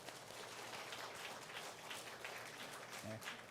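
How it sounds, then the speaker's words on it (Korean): A church congregation at a Sunday service claps for a couple, soft, distant applause that holds evenly throughout, with a brief voice near the end. "우리 박수 한번 하겠습니다."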